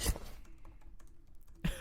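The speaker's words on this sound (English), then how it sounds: "still typing out his response" Someone types on a computer keyboard, soft scattered keystrokes heard faintly under a low steady hum, with a couple of louder thumps at the end.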